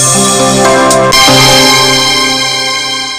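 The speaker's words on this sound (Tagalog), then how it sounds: "imong cellphone ba? Bagting." A mobile phone rings with a loud, sustained electronic melody of tonal notes that briefly shift midway, filling the short moment alone.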